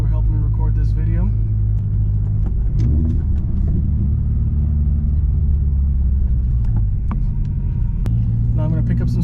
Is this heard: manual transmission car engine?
yes